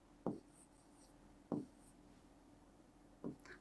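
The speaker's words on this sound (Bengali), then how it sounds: "এখানে আমি লিখি পচা" Marker or chalk strokes on a board during a biology lesson, three short separate scratching strokes spaced over a few seconds, close and fairly quiet with no talk.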